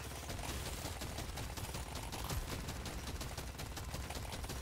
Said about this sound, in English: It's literally just mag dumping